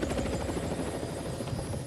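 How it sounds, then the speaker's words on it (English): Helicopter on a sunny day over the Dorset coast in 1986, its rotors beating in a loud, rapid, close thumping that stays steady throughout. "Get into the helicopter and just wait, Annie."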